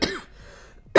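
Two harsh, close coughs, one at the start and another at the end, bracket a short quiet breathy gap.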